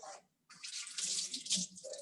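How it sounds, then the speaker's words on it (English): Water poured from a tap into a falafel mixture in a home kitchen, a steady splashing stream with a brief pause early on, close and fairly soft. "Just going to add a little bit of water to this."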